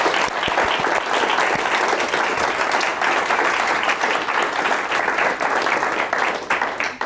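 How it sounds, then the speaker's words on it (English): A live audience at a SCAD walk and research update event gives a sustained round of applause, dense steady clapping from many people throughout with faint voices mixed in. "I'm going to just have a quick round of applause for all of those amazing people."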